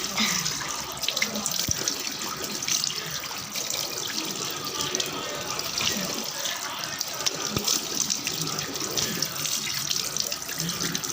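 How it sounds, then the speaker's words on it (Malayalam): Water runs steadily from a tap into a sink during face washing, a continuous close splashing gush with light irregular spatters, at a moderate level throughout. "അത് മുഖമൊക്കെ ഒന്ന് കഴുകിയേക്കാം."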